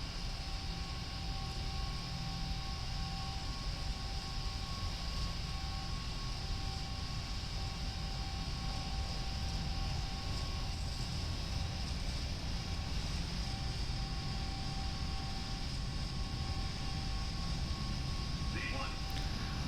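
Airliner engines at takeoff thrust roar in a steady, dense broadband rush with a few faint tonal whines, heard from inside the cockpit during the takeoff roll, with a voice talking over it.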